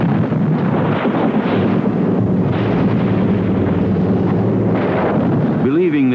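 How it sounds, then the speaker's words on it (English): Allied artillery bombardment of the mountaintop Monte Cassino monastery in Italy, March 1944: a sustained, heavy rumbling roar of distant shelling that runs throughout, with narration over it. "Believing this ancient monastery in the mountains was being used by the Germans to direct artillery fire, the Allies bombarded it."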